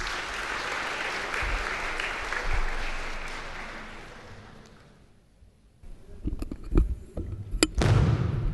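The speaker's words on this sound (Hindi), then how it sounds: "जोरदार तालियां" Loud, dense applause fills the Central Hall of Parliament House at the National Youth Parliament Festival, fading out over several seconds before scattered claps and thumps return near the end.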